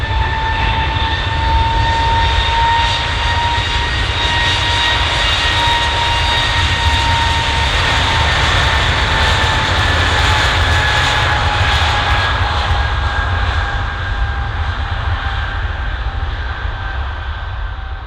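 Airliner jet engines at Bristol Airport, a loud, steady roar with a whining high-pitched tone, held close and strong for the full length as the aircraft runs on the ground, with no talking.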